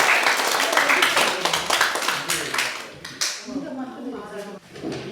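An audience at a Tamil New Year community celebration claps in a brisk burst of applause that fades as a voice begins speaking over it.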